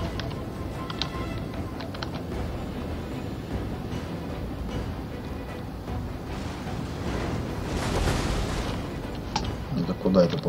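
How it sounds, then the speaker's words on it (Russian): An artillery shot fired during a siege battle in Total War: Rome II, a muffled boom swelling around the eighth second over a dense, rumbling battle din with constant low clatter and noise throughout. "Это куда это попал выстрел?"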